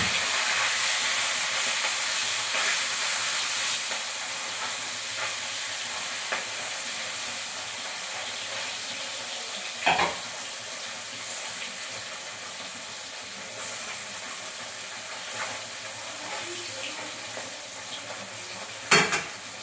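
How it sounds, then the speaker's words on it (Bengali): Fish frying in hot oil in a pan, a long, constant crackling sizzle with occasional sharp pops and utensil knocks, close up and with no voices. "মাছগুলো ভেজে নেবো"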